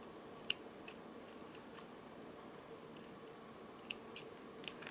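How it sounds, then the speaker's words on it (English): Scissors snip necklace thread just above a knot, a few short sharp clicks spread across a quiet background with no talking. "Now let's cut the thread above the knot."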